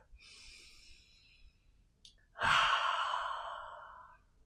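Deep yogic breathing: a long airy inhale through the nose, a brief pause, then a louder, drawn-out exhale that fades gradually, close and intimate with no talking.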